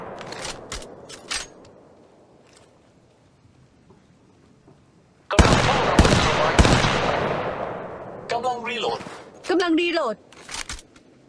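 Gunfire in the mobile shooter game Apex Legends Mobile comes in sharp bursts, a few isolated shots and then a dense loud volley, mixed with in-game voice lines and a person talking.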